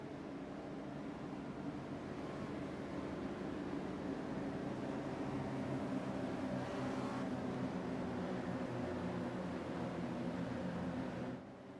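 Race cars and a Porsche safety car in a racing video game, heard as a steady engine drone of the pack rolling on track at Phoenix, constant and moderately loud with no talking.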